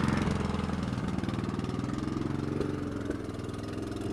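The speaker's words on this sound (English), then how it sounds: "This is a gas-powered sap pump, a water transfer pump." Gas-powered sap pump used as a water transfer pump at a maple sugaring operation, a small engine running steadily close by with a rapid even throbbing pulse that eases slightly toward the end.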